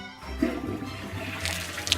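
A toilet flushes in a Play-Doh stop-motion cartoon, a steady rush of draining water lasting about two seconds with a brighter gurgle near the end.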